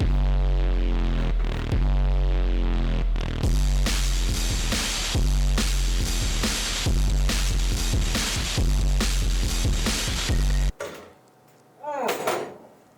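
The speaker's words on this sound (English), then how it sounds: "I forgot I had the heater on" An electric heater in a woodworking shop hums with a steady low drone, under irregular knocks and clatter, then cuts out near the end, leaving a brief whooshing rise.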